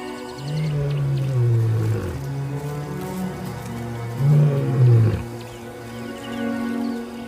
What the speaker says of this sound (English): contact roars reverberate across the grassland, calling for his brother